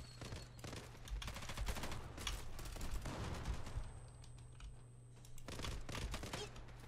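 Rapid automatic gunfire in the online shooter Zula, likely an M4A1 rifle, rattles in dense bursts with a brief pause midway before firing resumes, loud and close without talk.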